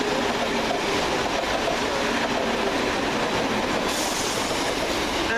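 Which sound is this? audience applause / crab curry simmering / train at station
train at station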